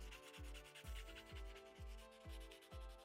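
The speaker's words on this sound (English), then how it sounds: "I could then go in with some 300 grit sandpaper and start to refine the surface" Sandpaper of 300 grit rubs over Bondo putty on a 3D-printed sculpture part, a steady scratchy rasp in repeated rhythmic strokes, about six passes, close and alone.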